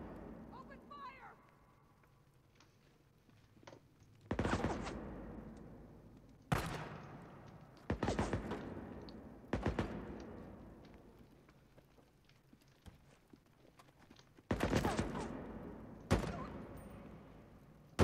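Gunfire in the video game Days Gone: several loud, sharp bursts of shots spaced irregularly, each decaying into echo, with voices speaking in between.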